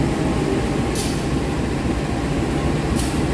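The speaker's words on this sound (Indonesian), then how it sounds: "Kereta api Airlangga saat ini sudah tiba dan berhenti stasiun Semarang Poncol jalur 1." Airlangga passenger train standing at Semarang Poncol station, a steady low rumble of idling locomotive and carriages with faint brief hiss bursts, no voices.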